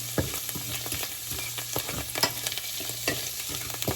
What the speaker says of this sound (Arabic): الزيت كله طاطق